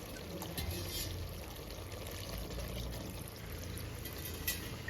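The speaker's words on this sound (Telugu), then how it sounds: "ఇప్పుడు వాటర్ వేసుకుందామండి" Water, about two glasses of it, is poured into a pan of native country chicken curry, giving a soft, steady gush and trickle that sounds quiet and fairly close.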